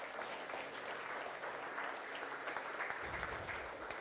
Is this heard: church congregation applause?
yes